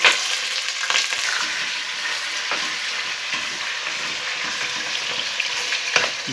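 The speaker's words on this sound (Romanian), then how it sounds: "S-a înfierbântat uleiul și voi pune bucățile de pui" Chicken pieces fry in hot oil in a pot, cooking for a Bucovina-style chicken with sour cream, giving a steady, dense crackling sizzle throughout, close and even, with no talking.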